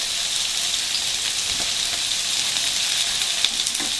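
Broccoli frying in a pan for vegetable fried brown rice gives a dense, even sizzle up close, a constant hiss with faint pops and a brief stir near the end.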